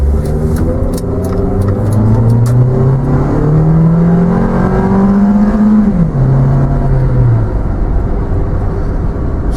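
A 2000 Honda CR-V with a small four-cylinder engine revs hard while accelerating uphill. Its pitch climbs steadily through a gear, drops at the shift, then rises again, loud and sustained with strong road and wind roar.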